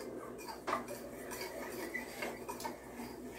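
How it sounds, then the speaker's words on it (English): Spoon stirring partly melted butter in a bowl, light scattered clinks and scrapes against the dish, close and quiet with no voices. "I'm just going to stir it up to get the remainder of that butter melted down."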